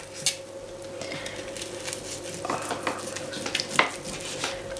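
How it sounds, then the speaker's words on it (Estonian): Sizzling roast lamb handled and sliced with a fish-filleting knife, soft crackling sizzle with scattered knife scrapes and clinks of utensils against a dish, close and fairly quiet, no talking. "Ja siis võtame ette selle sariseva prae."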